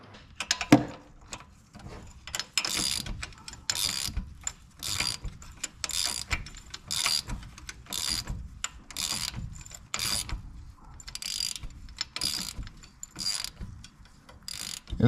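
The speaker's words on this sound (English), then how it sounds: "keep tightening the nut until I just feel resistance on it, and then turn it 1 full turn more" Repeated mechanical ratcheting clicks in short regular bursts from tightening the adjusting nut on a Corvair engine pushrod, close and fairly quiet, with no talking.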